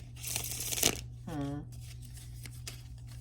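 Tarot cards are shuffled in a close, crisp burst of riffling and rustling, followed by a brief voice sound and a few soft card taps and slides over a steady low hum.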